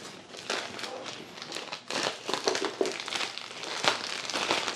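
Plastic packaging is ripped and crinkled off an Ifi Diablo audio device during an unboxing, giving close, uneven bursts of crackling, crumpling and tearing with short pauses between pulls.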